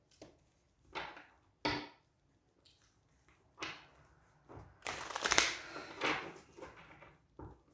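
Tarot cards shuffled in bursts during a reading, a few separated riffles and slides followed by a longer, louder flurry of rustling card noise near the end, close and with no talk.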